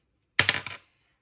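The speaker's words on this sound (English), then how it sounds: "Let's roll the dice and see." Dice roll across a table during a cash-stuffing savings challenge, a brief close clatter of a few quick hard knocks lasting about half a second in otherwise quiet surroundings.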